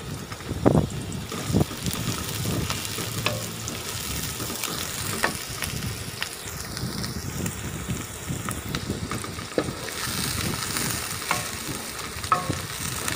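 Onions and green chillies fry in a masala for a tinday gravy, giving a steady close sizzle with occasional stirring scrapes and clinks, no voices.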